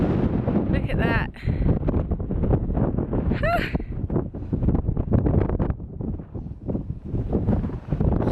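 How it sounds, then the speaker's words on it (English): Steady gusty wind buffeting the microphone on the hilltop of Dinas Bran near Llangollen, Wales, a continuous rumbling roar with brief bursts, with someone talking faintly underneath. "It's so windy up here"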